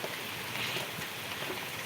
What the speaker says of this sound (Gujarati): અત્યારે જે તમે લાઈવ જોઈ શકો છો અત્યારે વરસાદ ચાલુ જ છે